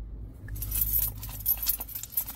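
Car keys jangle close by, a rapid run of bright metallic clinks and rattles that starts after a short quiet pause and keeps going with no talking.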